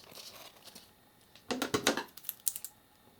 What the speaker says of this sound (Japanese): ハサミで切ってみます